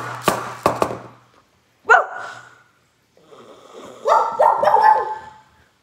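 Indoors, a dog gives a few sharp barks close by, then a single yelp, then a longer run of whining yips and barks, loud against silent gaps.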